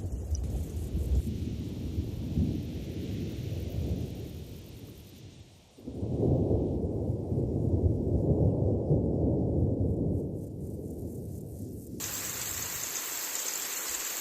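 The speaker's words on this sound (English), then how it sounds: "After weeks of drought, the rain has finally come." Heavy rain after weeks of drought pours steadily in a nature reserve in Alsace, France, with deep rumbling thunder rolling underneath, swelling louder midway, then a sharper hissing wash takes over near the end.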